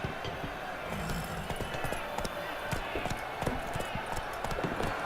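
A horse named Roach trots with steady clip-clopping hooves in The Witcher 3: Blood and Wine, a continuous rhythmic patter under ambient outdoor game sound.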